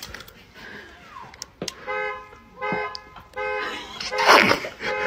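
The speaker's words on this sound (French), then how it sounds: "Je vais activer la fonctionnalité alarme." A car alarm sounding in repeated tonal honks, with pauses between bursts and a louder noisy surge near the end.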